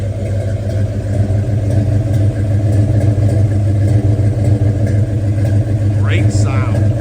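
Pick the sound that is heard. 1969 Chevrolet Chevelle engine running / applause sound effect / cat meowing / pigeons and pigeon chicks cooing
1969 Chevrolet Chevelle engine running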